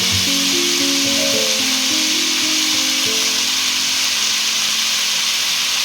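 Masala ingredients, including chillies, fry in a hot pan for pepper crab, making a loud, steady, close sizzle that fills the whole stretch, with a faint tonal hum early on.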